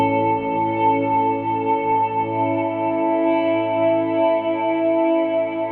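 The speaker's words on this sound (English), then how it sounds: "You throw the chorus on, and it's very subtle, but it does just kind of add a little bit" A sustained electric guitar tone through a Kemper amp with a gentle shimmering, wavering chorus effect, ringing steadily and clearly with no voices.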